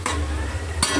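Tomato tipped into a frying pan and stirred, a brief scrape and clatter of a spoon against the pan over a steady low hum, with a second sharp stir near the end; no talking.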